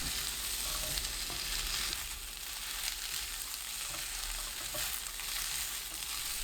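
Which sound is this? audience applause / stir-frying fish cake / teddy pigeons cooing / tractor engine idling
stir-frying fish cake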